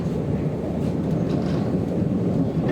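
London Overground Lioness Line train heading from Euston toward Watford Junction, a steady low rumble and rolling noise heard from inside the carriage, with no talking.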